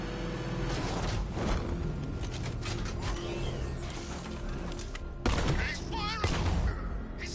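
Gunfire in Batman: Arkham Knight, a steady barrage of rapid shots with mechanical clatter and creaks, dense and continuous throughout, with a louder jolt near the end.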